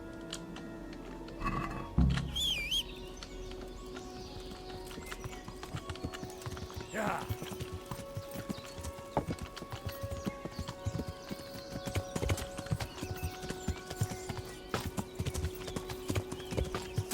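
Horse hooves clip-clop steadily in the medieval game Kingdom Come: Deliverance, a continuous rhythmic walking beat at moderate distance with brief higher-pitched animal or ambient sounds early on and no speech over it.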